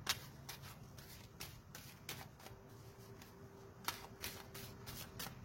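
Quiet, papery riffles and soft flicks of tarot cards being shuffled by hand, in irregular bursts with a few sharper snaps.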